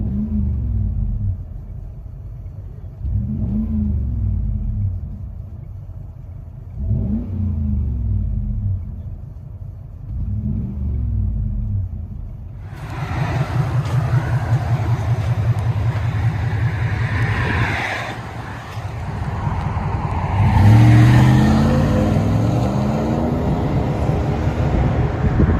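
A 2006 Lexus GX470 4.7L V8 with a muffler delete heard from inside the cabin: a deep rumbling idle with rhythmic swells, then a louder droning rev with exhaust roar building toward the end.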